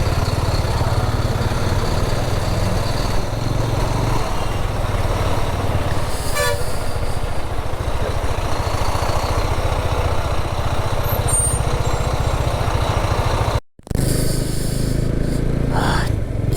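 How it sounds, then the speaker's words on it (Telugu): Heavy traffic jams an Ooty junction: engines idle nearby, and vehicle horns toot repeatedly and loudly over a constant rumble, with one brief cut in the sound near the end. "ఫుల్ ట్రాఫిక్ జామ్ ఉంటుంది ఇక్కడ అయితే"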